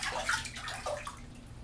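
Water sloshing and splashing in a bathtub as a baby is bathed, with soft, close, continuous swirls and small splashes and no talking.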